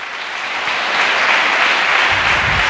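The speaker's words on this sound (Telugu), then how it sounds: "చప్పట్లు కొట్టండి కొంచెం గట్టిగానండి" A church congregation claps at a sermon in a dense, steady wash of applause that swells slightly louder partway through.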